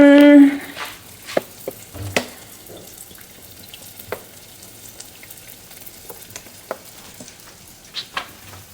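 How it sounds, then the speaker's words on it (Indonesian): Fish frying in hot oil in a home kitchen, a steady low sizzle with scattered sharp crackles and pops running throughout, fairly close and moderate in level with no talking. "Terus aku mau goreng ikan."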